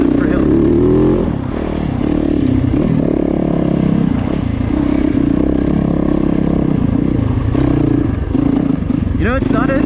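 Yamaha YZ450FX dirt bike on trails revs under throttle with a loud, rough, close engine roar, surging and easing through the clip amid clattering and scraping from rough terrain.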